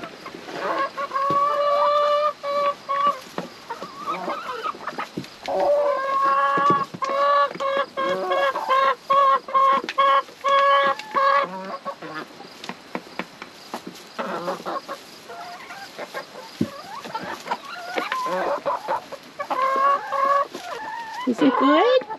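Backyard chickens cluck and squawk excitedly in a feeding frenzy, dense overlapping calls close by, loud and busy throughout with brief gaps.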